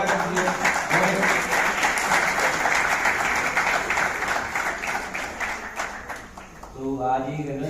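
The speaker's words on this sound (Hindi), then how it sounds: "जोरदार तालियों से स्वागत कीजिए" Audience applause at a poetry festival event at IIT Kanpur, a dense, sustained wash of clapping from a large crowd that fills the hall and fades near the end as a voice begins speaking.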